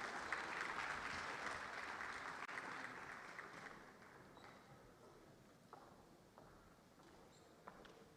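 Audience applause at a Lagos State government electricity policy presentation, a dense burst of clapping that starts full and gradually thins and fades, with a few scattered late claps near the end.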